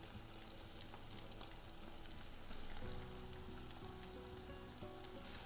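Ground beef browning in a pot for a beef, rice and vegetable soup, seasoned with salt and black pepper, gives a steady close sizzle and frying crackle that holds the whole time, with a faint hum underneath.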